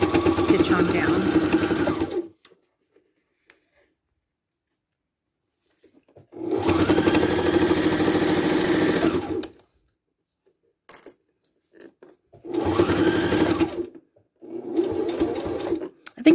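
A sewing machine runs in three loud, steady bursts of rapid stitching through vinyl, separated by quiet pauses with a few small clicks.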